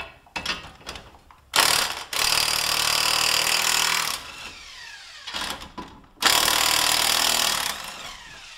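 Bolts are loosened on the lower strut mount of a 2001 Acura or Honda Civic using a ratchet; there are two long, loud bursts of fast ratchet clicking, each separated by quieter handling noises and brief pauses.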